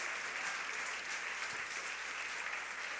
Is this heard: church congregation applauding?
yes